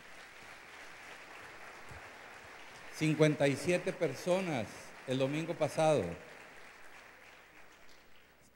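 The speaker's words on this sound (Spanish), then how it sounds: "Vamos a darles un aplauso." A church congregation applauds newly baptized members: a steady low wash of clapping runs under someone speaking into a microphone through the middle, then continues alone.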